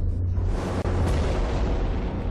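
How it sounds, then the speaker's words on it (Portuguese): A massive explosion of a large object over Tunguska in remote Siberia, rendered as a continuous loud, deep rumbling roar with a brief dip near the start, then sustained low, heavy blast noise with no voices. "Um grande objeto explodiu em Tunguska, na remota Sibéria."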